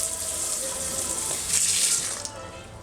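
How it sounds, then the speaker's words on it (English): Dyed wool rinsed under lukewarm running water, a steady close splashing gush that swells briefly midway, with no talking. "I'm gonna rinse it, just give it a light rinse with"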